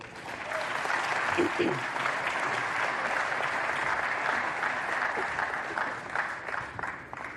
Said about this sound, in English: Give him another round of applause, if you will.